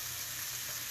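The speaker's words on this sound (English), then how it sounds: "sizzling." Food sizzles steadily in a hot pan as it browns to golden, a continuous close frying hiss with no voices over it.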